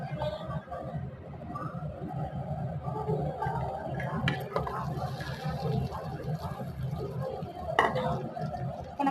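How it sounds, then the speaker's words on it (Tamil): Onions go into a pan for mushroom gravy and are stirred, producing a low sizzle with soft utensil scrapes and a few light clinks against the pan. A voice speaks over the cooking. "இப்ப நம்ம வெங்காயம் போட்டுடலாம்."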